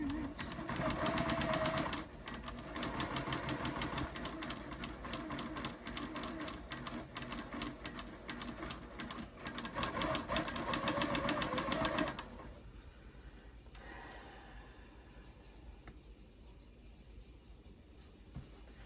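An over-oiled sewing machine runs loudly with a fast, rattling mechanical clatter for about twelve seconds, then stops, leaving quieter background noise.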